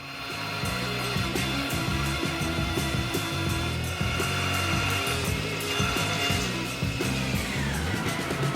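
A milling machine cuts a hole through stacked metal plates, giving a loud, steady grinding whine with rhythmic chattering pulses from the cutter, close up and without talk.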